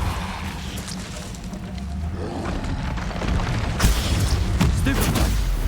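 A Depulso spell is cast during a fight in Hogwarts Legacy, giving a rising whoosh and a forceful impact that swell out of steady rumbling battle noise.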